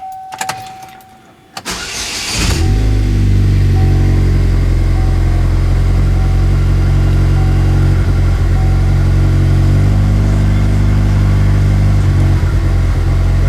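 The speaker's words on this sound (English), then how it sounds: "we are going to start the vehicle, let it run for just a second" A Pontiac Solstice or Saturn Sky engine cranks briefly, catches and settles into a loud, steady low rumble as it idles after an oil change, continuous and close with no talking.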